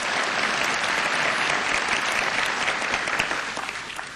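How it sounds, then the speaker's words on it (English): Brief audience applause at a conference speech, a full, continuous round of clapping from a large crowd that holds steady and then begins to taper near the end. "So give me short applause and I'll start again."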